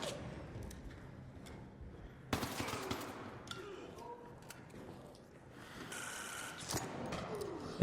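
Gunshots in the extraction shooter ARC Raiders, with bursts of automatic fire and sharp single cracks at moderate distance among game noise, and faint talk underneath.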